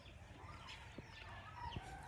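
Free-ranging chickens at a provincial farmhouse cluck faintly in the distance, with a few soft calls over a quiet rural background and one slightly louder cluck near the end.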